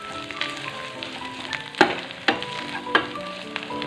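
Ground spices, including Kashmiri chilli, are stirred into hot oil in a pan. A soft, steady sizzle runs throughout, broken by a few sharp spoon clinks and scrapes near the end, with no voices.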